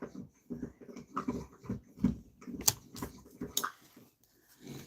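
A dog gnaws a bone close by, with rhythmic wet chewing and crunching bursts and a few sharp cracks, alone without talk.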